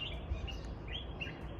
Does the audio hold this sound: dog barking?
no